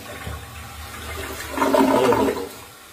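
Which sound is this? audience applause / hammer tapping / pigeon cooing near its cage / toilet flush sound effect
toilet flush sound effect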